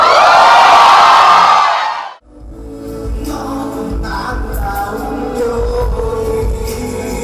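Fans at a concert roar and cheer in a loud, dense wash of crowd noise for about two seconds, which drops away abruptly as live band music takes over.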